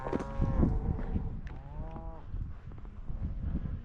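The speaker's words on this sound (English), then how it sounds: "Got a couple bulls in there." Cattle, including bulls, low repeatedly from inside a stock trailer, near and loud, several overlapping moos with shuffling and knocking of hooves on the trailer floor between calls.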